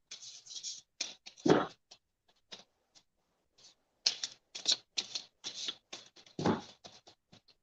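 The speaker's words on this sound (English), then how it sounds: "Well, as I'm shuffling," A deck of oracle cards is shuffled by hand in a quiet room. The cards make short, crisp bursts of riffling and sliding, close and fairly soft, separated by brief pauses.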